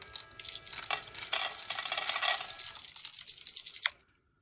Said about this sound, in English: we now add the neutral stimulus of a bell with the whirring sound of the dispenser